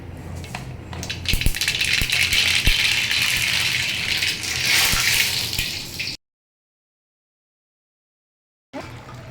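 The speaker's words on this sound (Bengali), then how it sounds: "এবারে এটা তেলে দিয়ে দিলাম" White mustard seeds hit hot oil for a vegetarian pui shak (Malabar spinach) dish, giving a loud, dense hiss with scattered crackles for about six seconds, then a sudden silence before a short return of the hiss.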